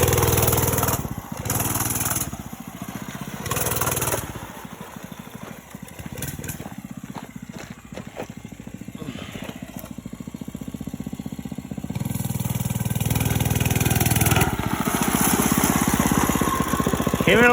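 A motorcycle engine runs while being ridden outdoors, its steady mid-pitched drone rising and falling with throttle changes and a louder surge of revving toward the end.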